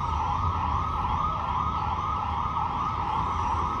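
A fire engine siren wails steadily and loudly in a village setting, a continuous sustained tone with road rumble beneath and no voices.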